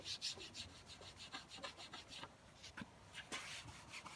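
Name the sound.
scrubbing residue off a cabinet edge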